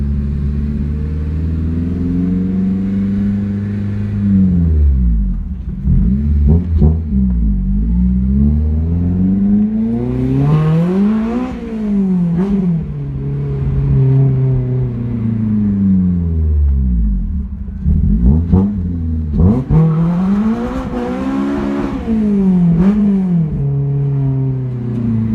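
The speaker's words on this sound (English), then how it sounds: "Just taking a drive around the block." An all-motor Honda K20 Type R engine with 200+ horsepower drives a car around the block, repeatedly revving up through the gears and easing off in a loud, close, cyclical rise-and-fall of engine tone.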